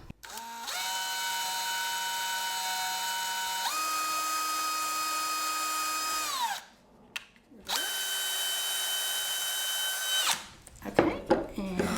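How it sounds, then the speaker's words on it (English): A power drill whines steadily at high speed, shifting pitch as it bores down through wood, stops briefly, then runs again before winding down into clattering handling noise. "I'm going to take a drill and drill down through here."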